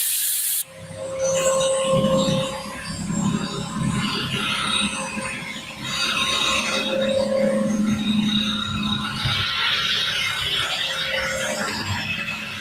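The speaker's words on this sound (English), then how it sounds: "I just kind of want to show you too with the auto scrubber on how to go over the floor with the auto scrubber" Auto scrubber passing over a wood floor during refinishing gives a steady, fairly loud mechanical drone with swishing, rubbing texture throughout, and no talk over it.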